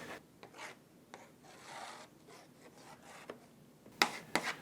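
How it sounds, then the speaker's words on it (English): Plastic disposable putty knife smoothing and flattening caulk blobs on foam scenery board for a train layout, giving soft intermittent scraping and rubbing strokes, fairly quiet and close, with a couple of sharper scrapes near the end. "This is a plastic disposable putty knife, and we're going to use it to just start smoothing our caulk blobs"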